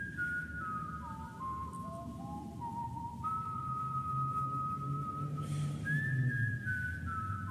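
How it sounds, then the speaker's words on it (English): A lone, haunting whistled melody from a song carries sustained, sliding tones over a faint low musical bed, quiet and clear, with no voices. "A whistling at the end. I liked it, but it was a little haunting."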